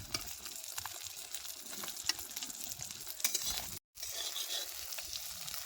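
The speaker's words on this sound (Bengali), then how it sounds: "ডিমটা কিন্তু ভালো মতো নিয়ে ভাজা হয়ে গেছে" Eggs fry in a pan, village-style, giving a close, continuous crackling sizzle with small pops that drops out for a moment near the end.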